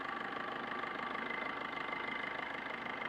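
Steady close-up idle of a 2018–19 Maruti Swift VDI diesel engine, a smooth continuous hum with a soft ticking diesel clatter running evenly throughout, nobody speaking.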